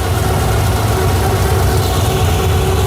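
A cammed Chevy 350 V8 swapped into a 1987 Firebird idles at about 1100 rpm, giving a loud, close, continuous low rumble with a choppy, pulsing lope throughout.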